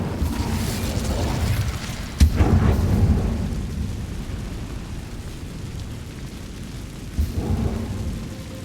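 Fiery Incendio spell cast in Hogwarts Legacy, a sharp burst followed by a roaring, rumbling whoosh of flame that swells and fades, with a second smaller burst near the end.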